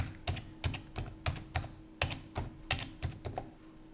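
Rapid clicking of keystrokes on a computer keyboard as an IP address is typed, about a dozen crisp taps in irregular bursts over a steady low hum, close and alone with no talking.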